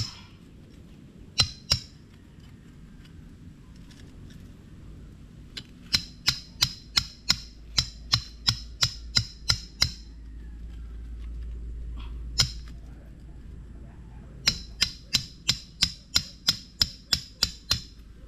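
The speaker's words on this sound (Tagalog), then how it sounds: "Pukpok lang ng pukpok." Sharp hammer-like strikes in rapid runs of several blows, pausing between bursts, loud and near over a low background hum.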